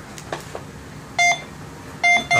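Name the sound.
Go Find 60 metal detector beeping on a target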